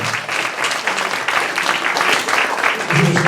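Audience applause fills a launch evening for the Egregor project at Climate House, a steady dense clatter of many hands clapping throughout, fairly loud and sustained with no talking over it.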